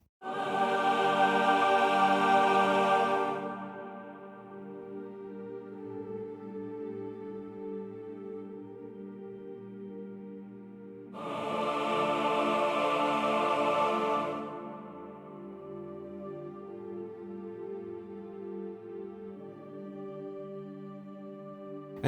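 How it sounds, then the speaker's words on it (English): Choirs humming sustained chords within an orchestral film-style soundtrack, two swelling held passages separated by a quieter sustained pad, smooth and resonant with no talk. "This time they are humming the chords. Together they sound like this."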